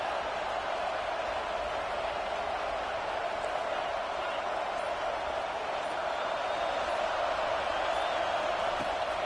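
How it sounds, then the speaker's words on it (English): Steady roar of a cheering crowd at an NCAA college football game involving the Hokies, a dense continuous wash of noise with no individual voices standing out, loud and unbroken throughout. "It's early, but this crowd is fired up. Listen to this noise here."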